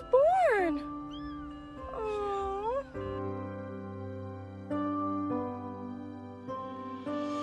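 A kitten in a parking lot lets out several high, wavering meows, close and clear, and a low droning sound comes in partway through.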